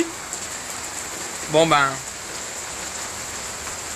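Heavy rain falls as a steady, dense hiss throughout, and someone says a few words briefly over it.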